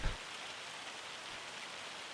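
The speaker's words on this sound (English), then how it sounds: "It's currently hailing, unfortunately, which is not really good for any of the crops." Hail and rain in the video game Farming Simulator 25, a steady, even hiss of falling precipitation pattering on surfaces, moderately soft and continuous with no voices.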